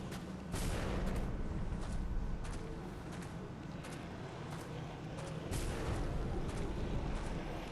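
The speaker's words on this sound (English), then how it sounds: "It's weird how it's spitting some sort of bile at me, but it seems to make a gunshot noise." In the video game Bloodborne, an enemy spits bile with a gunshot-like report; loud booming blasts repeat over several seconds amid heavy, rumbling game noise.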